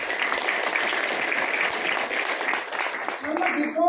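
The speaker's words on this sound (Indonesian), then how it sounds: "Tepuk tangan dulu." Audience applause at a business training session in Bandung, a dense stretch of clapping from a seated crowd that continues steadily, with a voice starting to speak as it fades at the end.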